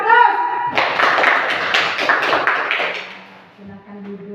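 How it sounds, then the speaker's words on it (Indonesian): Elementary school pupils clap together in a classroom, a dense burst of applause lasting about two seconds that tapers off, with a teacher's voice just before and after. "Beri aplaus"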